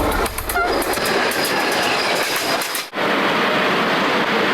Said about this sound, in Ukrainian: Усього за кілька хвилин потяг мав промчати цією ділянкою залізниці.